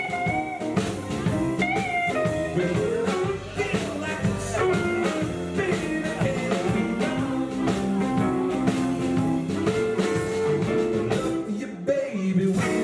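A live blues band of four jams on an open-mic stage, with dense, loud instruments playing together in a steady groove for the full stretch and no talking.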